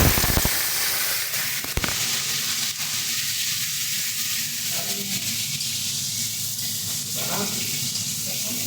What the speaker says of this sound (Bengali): আমরা প্রথমে শুটকি মাছগুলোকে দিয়ে হালকা করে একটু ভেজে নিচ্ছি